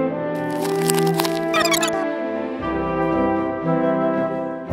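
A caterpillar crunches into strawberries as a cartoon sound effect in a children's story: a quick cluster of crisp, close bites over sustained tonal music.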